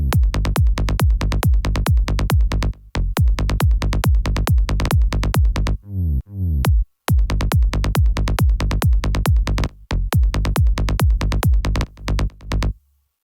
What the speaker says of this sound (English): 4 to the floor bass, and it sounds like this.